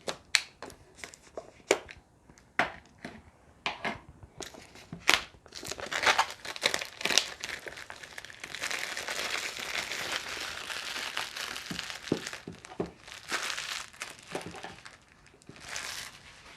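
Crinkling and rustling packaging as a Silentmode Power Mask is unboxed, starting with sharp sporadic crackles and taps, then building into a denser stretch of close plastic and paper crinkling with occasional snaps.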